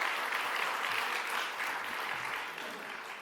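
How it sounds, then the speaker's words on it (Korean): Applause from a church congregation fills the whole stretch, a steady, dense wash of clapping that stays fairly even and eases slightly toward the end, with no voices over it. "한번 박수해 주실래요?"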